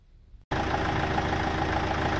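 A van engine idles to charge the battery through the alternator, kicking in abruptly after half a second of quiet and then running as a steady, close, even rumble with a faint repeating tick.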